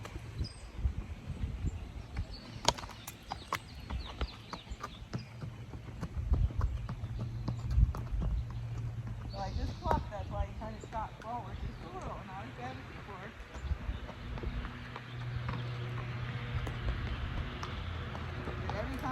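Steady hoofbeats of a Spotted Saddle Horse in an even flat walk, close by, with occasional soft voices and faint birdsong in the background.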